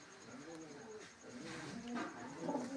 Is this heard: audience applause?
no